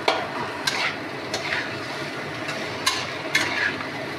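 Food stirred and fried in a pan, giving a continuous close sizzle broken by several sharp scraping strokes of the utensil, with no voices.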